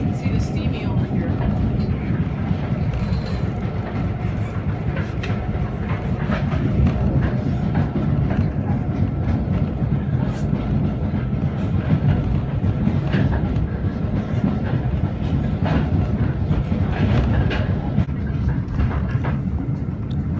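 Steam train on the North Yorkshire Moors Railway, a steady rumbling roar of the moving train with faint clicks and rattles throughout, fairly loud and continuous.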